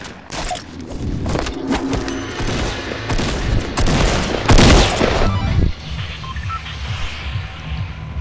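Rapid bursts of gunfire from the Fortnite video game crackle in dense clusters, including heavy thumping shots, loud and busy for most of the clip before easing into quieter background game sounds.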